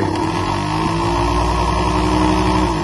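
Toyota Corolla Altis engine running steadily at raised RPM, a loud continuous droning hum with even rhythmic pulses, close by and without talk.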